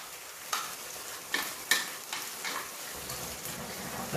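Tomato being added to a pan and fried for samfaina, a Catalan vegetable dish: steady sizzling with a few scraping stirs and utensil clinks, close and moderately quiet.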